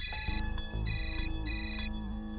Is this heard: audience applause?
no